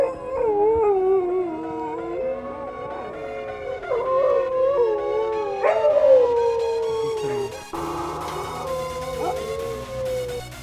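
Huskies howl together at a husky farm in Finland, several long, wavering, overlapping howls rising and falling nearby, with a short break partway through.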